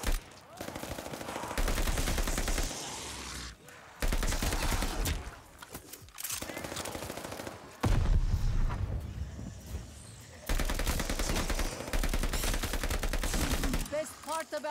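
Sustained automatic gunfire from a Call of Duty: Vanguard multiplayer match, loud bursts in several long stretches separated by brief pauses, with faint voices mixed underneath.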